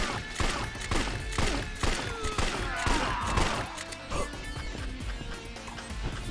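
Rapid gunfire bursts in a Yakuza video game, a dense string of sharp shots and thuds crowding one another over busy game sound for the whole stretch.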